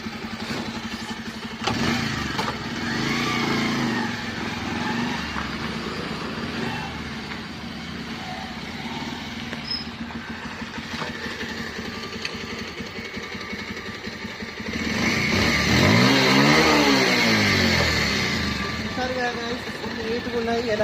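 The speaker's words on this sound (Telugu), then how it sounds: "బండి ట్రయల్ చేసి మీకోసం అయితే చూపిస్తాను" A 2023 Bajaj Pulsar 150 motorcycle engine runs nearby for a test ride, with a steady mid-level hum that swells and rises in pitch near the end as the bike revs or moves off. Background chatter and street noise sit underneath throughout.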